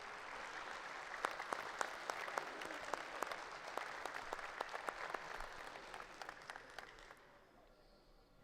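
Crowd at a high school elite football showcase applauds the coaches, a sustained round of clapping with crisp individual claps that gradually thins and fades out near the end.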